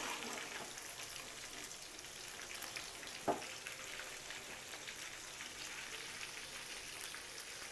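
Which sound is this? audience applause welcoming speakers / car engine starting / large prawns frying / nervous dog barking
large prawns frying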